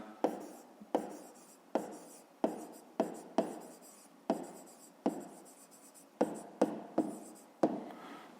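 Sharp pen strokes on paper during a fifth-grade maths exercise, a dozen crisp, irregular taps and scratches heard up close in a quiet room.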